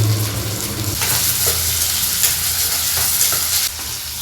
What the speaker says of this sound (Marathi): कोथिंबीर तेलात टाकली ना मग तिचा छान फ्लेवर उतरतो.